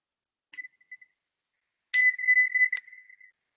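Meditation bells ring twice in a quiet room: a short, faint chime first, then a louder, longer strike with a brief clink near its end, each tone fading to silence.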